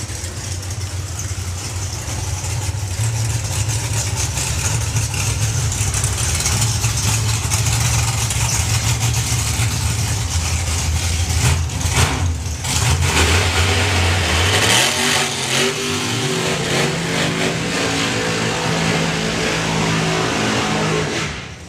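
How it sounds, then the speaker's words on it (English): A Chevrolet Camaro drag race car at a national finals event, its engine running rough as it comes around and does a burnout, a loud sustained roar with rising revs and shifting pitch, a sharp change in tone partway through. "Bobby's car doesn't sound that healthy when it comes around the corner and does its burnout"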